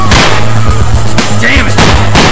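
Gunshots in the video game Zombie Panic: Source, a Half-Life 2 mod: several loud, sharp reports in quick succession with a low engine-like hum beneath.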